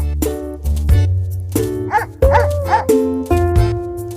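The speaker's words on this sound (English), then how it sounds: "Help Lucky the dog protect the carrots" A cartoon dog in a children's tapping game yips and barks in short, bright bursts while chasing hares away from carrots, set against a cheerful musical backing with a few quick sound effects.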